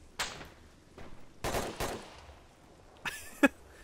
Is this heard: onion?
no